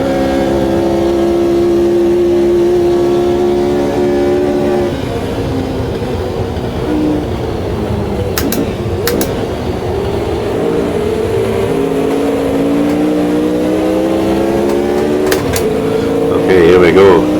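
A pack of 1960s classic race cars at Spa in Automobilista 2, engines droning loudly and steadily with rising and falling revs and gear changes, a close running commentary voice over the top.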